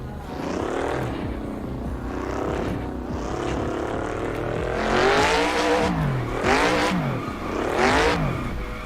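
A turbocharged car drifting in the Assetto Corsa racing game, its engine revving up and down in repeated swells, with the loudest surges near the end.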